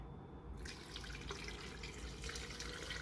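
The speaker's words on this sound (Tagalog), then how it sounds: "Saka natin ito ibubuhos yung tubig" Steady splashing of boiled, cooled water streaming into a jar of brine tomatoes, a continuous broadband wash of liquid noise throughout with no voices.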